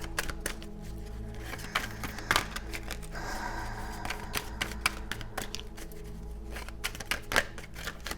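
Tarot cards shuffled by hand in a quiet room, a steady run of soft papery riffles and flicks with sharper snaps here and there, fairly close and moderately loud throughout.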